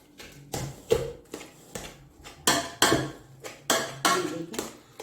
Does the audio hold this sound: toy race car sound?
no